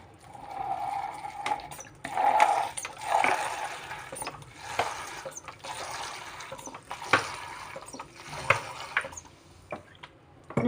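Orange blossom water is poured from a container into a bowl, a steady liquid splash lasting several seconds with a few brief knocks and drips.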